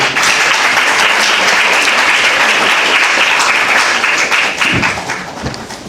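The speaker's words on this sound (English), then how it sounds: "With a resounding round of applause, help me welcome to the podium Ms. Fafa Kodo" Loud, dense applause from an audience at a university law fair and mentorship conference, welcoming a speaker to the podium, sustained for several seconds before tapering off with a few thumps.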